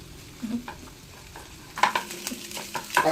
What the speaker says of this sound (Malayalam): നമ്മൾ ഈ മുട്ട പൊരിച്ചിട്ടത് നല്ലപോലെ മിക്സ് ചെയ്യാം